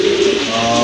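A single Afsan grizzle pigeon from a breeding pair coos once, a soft, throaty, resonant call heard close and clear on its own.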